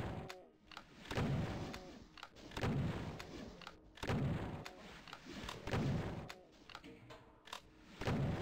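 Rapid, repeated gunfire blasts from shooting enemies in the video game Doom 2, loud booming shots fired in quick bursts with short gaps, heard alone without talk.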